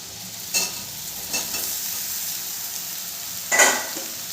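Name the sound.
soybean chunks frying with potatoes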